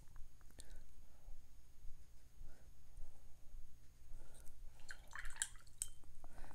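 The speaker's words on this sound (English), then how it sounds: "Rinse and dry off your brush." A watercolour paintbrush is rinsed in a water jar, making faint swishes and small splashes with light glassy clinks toward the end, against a quiet room hum.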